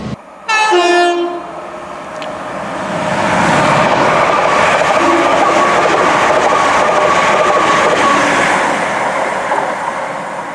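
A train passes through Acton Bridge station on the UK railway. Its horn sounds in a short harmonic blast near the start. Broadband rumble and wheel noise then swell and hold steady as the train rolls by close at hand, with no one speaking.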